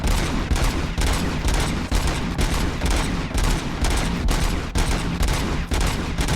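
Continuous automatic gunfire in the game Robocop: Rogue City, a dense, loud rattle of rapid shots with barely any pause, sustained throughout and without talk.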